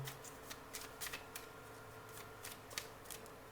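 Tarot cards being handled and shuffled in a pick-a-card reading, giving a soft papery riffle with a series of quick flicking bursts and light snaps over about three and a half seconds, with no talking.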